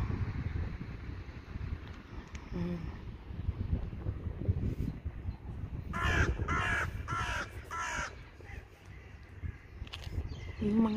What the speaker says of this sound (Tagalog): Yung mga ibon po.